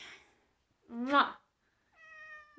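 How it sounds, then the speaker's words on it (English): A house cat meows once, close and fairly loud, with a rising then falling harmonic cry, followed after a pause by a faint electronic beep-like tone. "Sorry, my cat."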